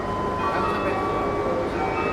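A passenger train sits at Lamongan station in Indonesia, heard as a steady mechanical rumble with faint sustained tonal hums, moderately loud and even throughout.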